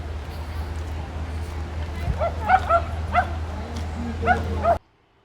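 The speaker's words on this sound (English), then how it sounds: "I just saw a dog in the glass door of somebody's house that looks like Blade" A dog barks and yips in short clustered bursts from behind a house's glass door, heard at a moderate distance under outdoor crowd noise at a town herring festival before the sound cuts off abruptly.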